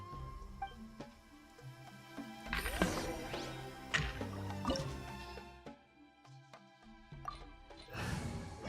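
Water dripping inside a cave in Genshin Impact, scattered clear drips and small splashes over soft background game music and ambience, with no talking.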